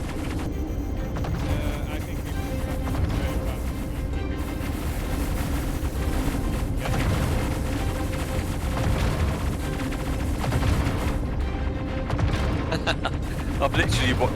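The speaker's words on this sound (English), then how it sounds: "I'm literally watching cannon fire just fly up in the distance" Ship cannons on a Perseus gunboat in the Star Citizen video game fire as a dense, continuous rumble of booming shots, with voices talking over the gunfire.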